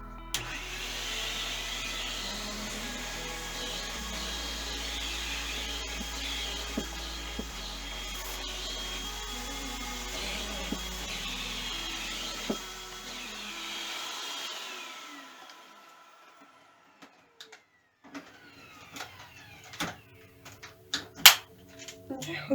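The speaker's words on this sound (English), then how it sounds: "So I'll be right back with the vacuum." A vacuum cleaner drones loudly and steadily while punch-needle rug work goes on, its motor pitch shifting as it runs. It then cuts off, leaving quiet handling clicks and rustles, and someone talks over parts of it.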